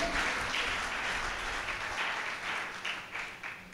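Church congregation applauding during a Hindi sermon, a soft, steady wash of many hands clapping at a distance, continuing evenly with slight swells and no clear voices over it.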